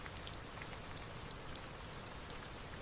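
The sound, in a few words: rain falling on an island forest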